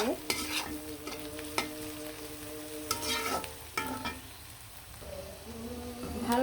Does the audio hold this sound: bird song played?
no